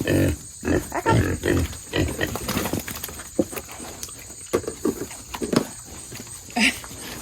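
Pigs on a small farm grunting in short bursts close by, mixed with shuffling and scuffing movement, while a person talks to them intermittently.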